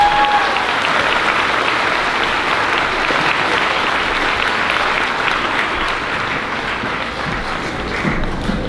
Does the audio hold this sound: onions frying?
no